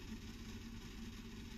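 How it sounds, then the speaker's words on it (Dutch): The motor of a KLM Koploper runs with a steady, low, even hum at low volume, with no change in pitch and no voices. "De motor doet het en dit is ook meteen het probleem."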